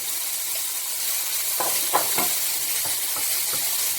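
White onions hit a hot pan with oil, giving a steady loud sizzle and hiss, with a few sharper crackles and spatters rising about midway through. No one speaks.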